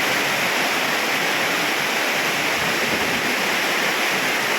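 Floodwater from heavy rain rushes across a flooded road beside farm fields, a loud, continuous roaring wash close by with no voices.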